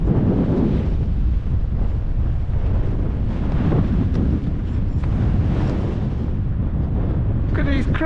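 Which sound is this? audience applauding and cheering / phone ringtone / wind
wind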